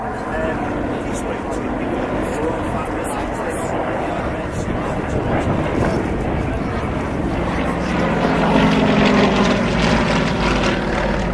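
Aerostars aerobatic team aircraft performing a flying display at Cosford Air Show in England, a loud sustained propeller engine drone that swells slightly toward the end, heard alongside a commentator's voice.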